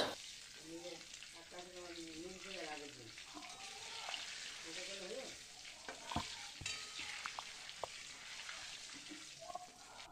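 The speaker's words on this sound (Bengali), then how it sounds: "দিয়ে দেবো একটু গোটা জিরে, দুটো শুকনো লঙ্কা, দুটো দারচিনি, তিনটে এলাচ" Whole cumin, dried red chillies, cinnamon sticks and cardamom pods sizzle and crackle in hot oil, a steady close frying hiss with occasional stirring clicks, while someone talks over it early on.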